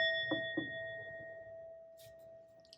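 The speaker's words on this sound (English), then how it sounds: "Let me show you my little bell. I have this bell right here." A small meditation bell rings once, its clear sustained tone lingering and slowly fading, with a couple of soft taps early on and quiet room noise around it.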